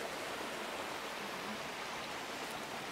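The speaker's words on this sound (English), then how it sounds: "So we found the waterfall," A waterfall in lush Pembrokeshire countryside pours out a steady, dense hiss of rushing water, unchanging and fairly close, with no voices.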